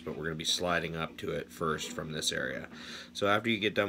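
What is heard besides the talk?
No everyday noise stands out behind the speech.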